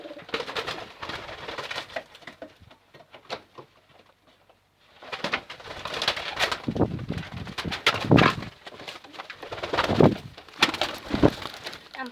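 Pigeons, white and black birds kept in a loft cage, coo in repeated low throaty bursts close by, with a quieter pause midway before several louder cooing phrases return; no one speaks.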